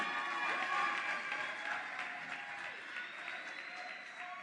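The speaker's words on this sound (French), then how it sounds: "On applaudit pour lui." An award-ceremony audience applauds a best-performance prize winner at a talent final, a soft continuous wash of clapping heard from a distance, steady throughout with faint crowd murmur.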